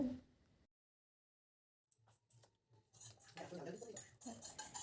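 A spoon clinks and scrapes against a bowl while spices are mixed into a raw potato batter, starting after a short silence and turning into busier, louder stirring toward the end.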